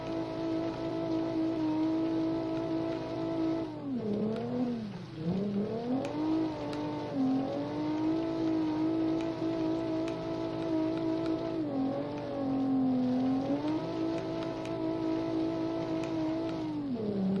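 A turbocharged rally car in BeamNG.Drive climbs the Pikes Peak gravel hillclimb, its engine droning loud and steady with repeated dips in pitch as it shifts gears, rising again after each change.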